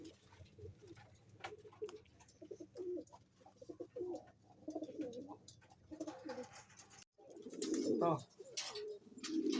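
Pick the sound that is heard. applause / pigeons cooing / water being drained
pigeons cooing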